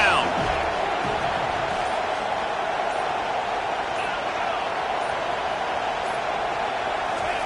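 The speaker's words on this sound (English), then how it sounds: "Decibels rising as the crowd gets behind this defense on 3rd down." A college football stadium crowd roars loudly for the defense on third down, a steady, dense wall of cheering that holds at full volume throughout.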